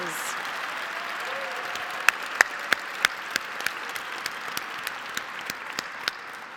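At a 2019 NEA Foundation gala, a large audience fills the room with steady applause for the foundation's board members, sharp individual claps standing out over the dense clapping, while a voice speaks faintly underneath.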